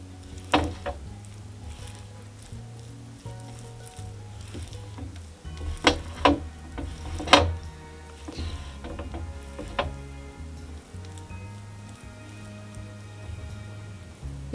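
Shredded tofu being tossed and coated in a whisked marinade gives soft, wet squelches and light irregular taps, with a few sharper knocks against the bowl.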